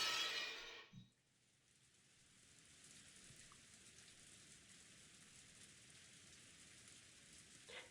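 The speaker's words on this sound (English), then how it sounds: "the endless rain continued to fall" Steady rain from the Golden Land in the visual novel Umineko When They Cry, a soft, even hiss that continues unbroken after a brief louder passage at the start.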